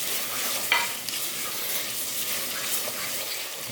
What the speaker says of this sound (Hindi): और इसकी हमने बुनाई करनी है कि इसमें ऑयल ऊपर आ जाए।